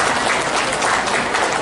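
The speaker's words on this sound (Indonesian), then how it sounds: "Tepuk tangan dulu buat SMK dia." Steady, dense applause from a crowd honoring a vocational high school at a regional event, a continuous close wash of clapping with no breaks for its full length.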